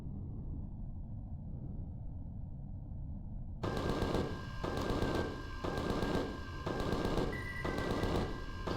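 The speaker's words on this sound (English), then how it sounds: "I've noticed that the cannon turrets shoot faster now." Cannon turrets on a plastic vessel in Empyrion Galactic Survival fire in a steady series of loud, heavy bursts that start abruptly partway through, after a quiet low hum.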